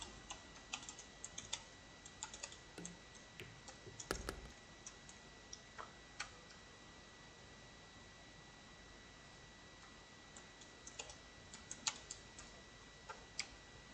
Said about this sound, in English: let's try and make the typing understandable